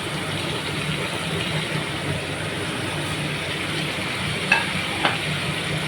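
Fish sizzling and frying steadily in a hot pan of masala, a constant crackling hiss with a couple of brief stirring clatters near the end.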